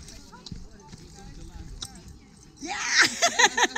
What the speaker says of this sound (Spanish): Vamos a cruzar los caballos por el río Puelo